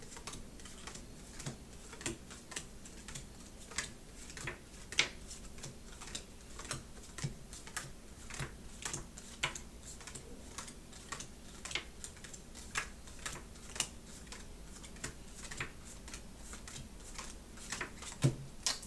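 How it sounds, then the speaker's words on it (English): A Thoth tarot deck is shuffled and its cards separated into piles, making a steady run of soft, crisp clicks and taps as each card lands, close and fairly quiet. "I'm just separating all the cards just to make sure I know that they are very well shuffled."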